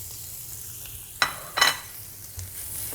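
Mushrooms stir-fried with corn and carrot in a pan, a steady sizzle broken by two sharp bursts of stirring and scraping close by, then a softer clatter.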